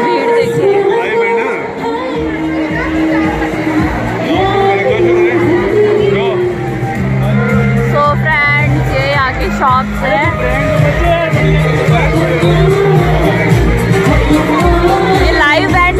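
Dense crowd at a Diwali celebration at Jaipur's Chaupati, continuous loud hubbub of voices, shouts and whoops over a live band playing music nearby.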